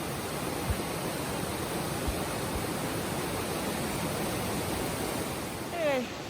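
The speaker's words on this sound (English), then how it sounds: "Look at this river." River swollen by heavy rain rushing steadily as a broad, dense roar, constant and close, with a faint voice briefly near the end.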